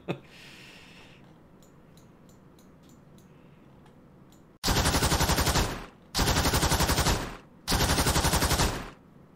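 Loud machine gun fire from the naval warfare game Command: Modern Operations: three sustained, rapid bursts with short gaps, following a quieter stretch of faint ticking.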